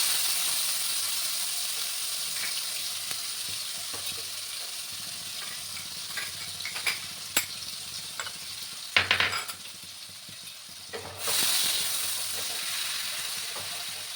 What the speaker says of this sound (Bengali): দুটো পেঁয়াজ বেটে রেখেছিলাম সেই পেঁয়াজটা দিয়ে দিলাম